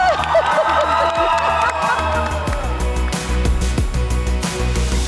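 A studio audience on an Armenian grandparents' game show claps and cheers loudly for about five seconds, with whoops and a raised voice mixed into the steady applause.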